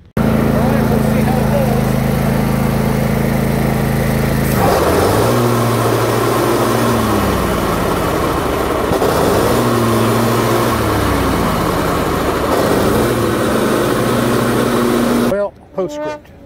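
A riding mower's engine runs steadily and loudly after its deck pulley was repaired, with a rising and falling drone and mechanical whine throughout, cutting off abruptly at the end.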